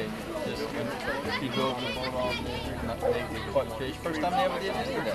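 Children play noisily in a swimming pool behind a near adult voice, their distant shrieks and chatter forming a steady babble under the talk on an outing filmed on a fishing trip.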